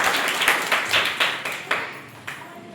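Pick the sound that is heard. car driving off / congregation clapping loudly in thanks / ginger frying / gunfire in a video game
congregation clapping loudly in thanks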